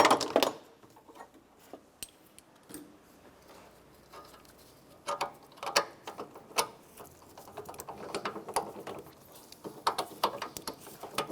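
A socket wrench ratchets engine mount bolts loose on a 2006-2013 Chevrolet Impala, giving irregular close clicks and metallic clatter, sparse at first and busier later.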